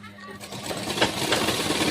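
Sewing machine stitching the four kali panels and waistband of a petticoat, a steady mechanical whir that builds and continues throughout at moderate volume.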